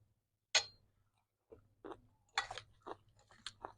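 Lao larb being chewed while tasted, with a few close, soft crunchy bites and mouth sounds spaced irregularly in an otherwise quiet room.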